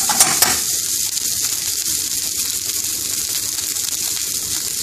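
Indian restaurant-style fried rice hissing loudly in a hot pan as freshly chopped coriander is stirred in, a dense, steady, close sizzle with a couple of sharp clicks at the start and no talking.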